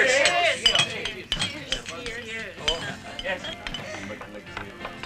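Drinking glasses clink in a toast at a family gathering in a 1997 Filipino film scene. Several light, bright chinks ring out over busy overlapping voices and party chatter.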